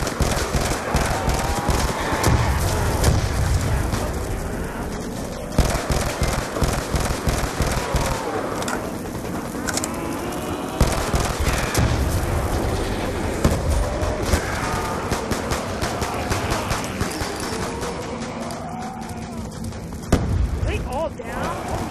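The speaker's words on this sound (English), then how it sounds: "Stop shooting at me." Rapid gunfire in Call of Duty Zombies on the Green Run map, dense and continuous bursts crackling throughout with occasional sharper booms, layered with game noise and a player talking over it.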